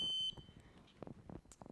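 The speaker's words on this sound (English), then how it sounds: "I've got it connected to a buzzer and a battery pack, and it makes the sound." An electronic buzzer wired to a battery pack gives a short, shrill electronic beep at the start, then cuts off, leaving faint clicks and handling noises close by.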